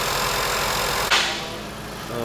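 A 2017 VW Jetta GLI with a 2.0-liter turbo engine idles while warming up after timing chain work, a steady, close mechanical hum with one brief click partway through.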